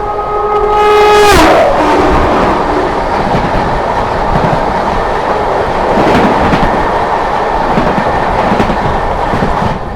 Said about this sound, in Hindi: सामने से आती हुई जम्मू तवी संबलपुर एक्सप्रेस।